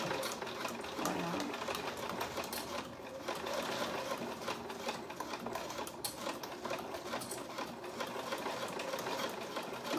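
A sewing machine stitching through thick layers of fabric on a tote bag, a steady fast mechanical whir and needle chatter running continuously at moderate volume, with no voices.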